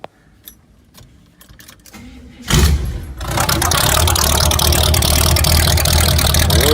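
A car engine with headers poking through the hood cranks briefly after some key jingling, then fires and settles into a loud, rough, rumbling idle close by.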